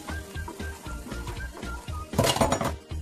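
Seasoning with oyster sauce and sesame oil stir-fried in a pan, heard as rhythmic clinks and scrapes of a utensil against metal, ending in a louder burst of clattering and sizzling.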